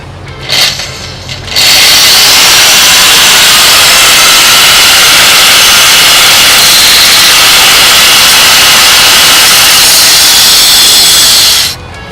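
A power saw slices a steel frame in half in one long, loud, continuous cut lasting about ten seconds, preceded by a brief burst of the tool spinning up.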